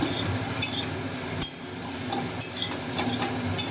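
Soybeans with turmeric stirred in a metal pan, with a spoon scraping and knocking against the pan in several distinct clinks over a low steady sizzle, close up and without talk.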